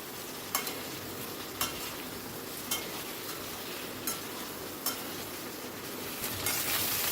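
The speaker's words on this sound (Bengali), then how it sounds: "আর বেশি ফ্রাই করব না, একটু নাড়াচাড়া করে" Food frying in a pan on a home stove while being stirred, a constant close sizzle broken by a few sharp scrapes and clinks of the spoon against the pan, with no talk.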